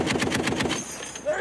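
Rapid machine gun fire from Marines at a live-fire range in Sweden, a fast even burst of sharp shots that stops after under a second and leaves faint echoing tail and background noise.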